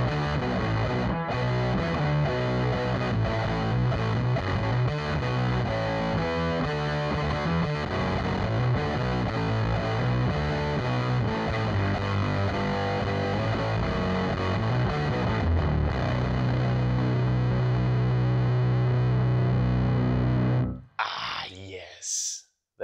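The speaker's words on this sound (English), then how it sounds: "It really sounds like that octave fuzz thing, but in modern and in more controlled." An electric guitar plays through a Ground FX Grayskull octave fuzz pedal, thick, buzzy and heavily distorted with a synthetic upper octave, sustained for a long stretch before stopping abruptly.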